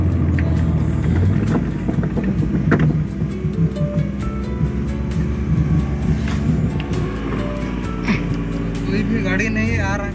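An old Maruti 800 with a noise problem, being driven slowly on a road. Its engine gives a dense, steady low rumble through the whole stretch, with someone talking over it.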